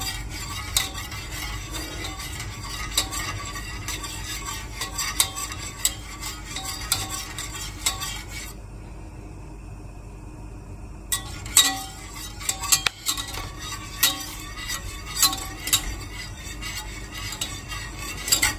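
A chocolate mixture with no added sugar is whisked in a pot, giving a steady scraping, swishing stir that runs close and continuous, briefly dropping quieter midway before resuming with small clinks against the metal.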